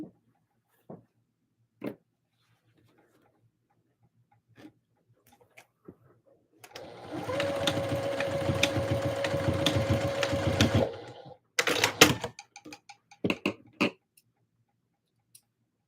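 Sewing machine stitching Christmas dresses at a short stitch length, a few scattered clicks and taps, then a loud, steady whirring run of about four seconds, stopping, followed by brief bursts and clicks.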